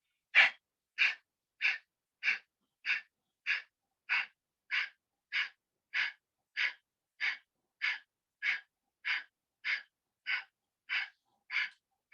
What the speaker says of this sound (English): you do Kapalbhati for 40 times